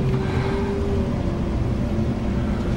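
A campervan drives past on a road in New Zealand's Fiordland near Milford Sound, a steady mid-distance vehicle rumble with a tonal whine fading over about a second, over constant outdoor background noise.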